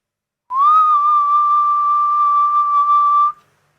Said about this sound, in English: I'm going to make a whistle instrument